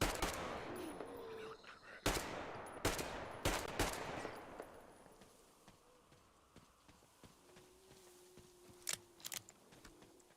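Pistol shots from Metro Exodus, a handful of sharp, loud cracks spaced unevenly through the first few seconds, then quieter clicks and movement with a couple of brief pops near the end.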